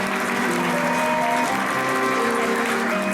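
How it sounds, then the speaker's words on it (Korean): Wedding guests at a Gangnam hotel ceremony applaud the two mothers, a steady, even wash of clapping that holds throughout while a sustained instrumental trio plays underneath. "두 분께 뜨거운 박수 부탁드리겠습니다"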